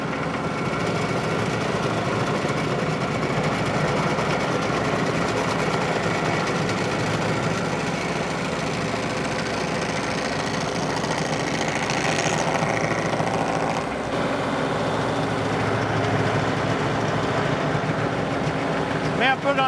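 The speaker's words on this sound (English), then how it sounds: "You run the grinder." A stump grinder runs steadily throughout, a dense continuous mechanical drone with rattling texture at even loudness, while people talk under it.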